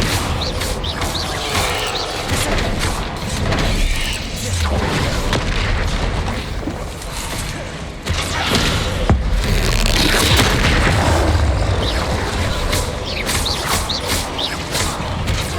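Explosive spells going off in the video game Hogwarts Legacy during a spell-casting fight, loud continuous booms and crashes layered densely with mechanical clatter, with spell names shouted over the din.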